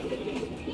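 Racing pigeon cooing on arrival at its loft after a training race, soft low repeated coos close by under steady background noise.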